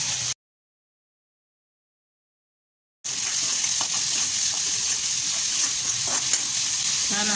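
Chopped tomatoes fry in a pan for a methi and toor dana usal, a steady close sizzle with light stirring, broken by a gap of near silence for about three seconds before the frying resumes, no speech.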